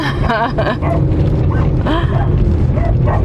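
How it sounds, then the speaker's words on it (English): Several dogs bark and yip in quick bursts close by, heard over a steady background rumble while people talk excitedly throughout. "The dogs."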